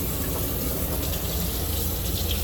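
A steady, loud rush of water streams from the hot side of an RV shower tap, continuous and close with no breaks or voices.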